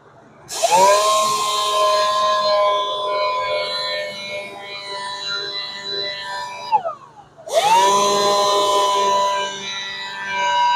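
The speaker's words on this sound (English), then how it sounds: "Switch over to the 320 to get those 150 sanding marks out." A power sander with 320-grit abrasive whines loudly at a steady high pitch on a Porsche wheel rim, winds down, then spins up again for a second long run.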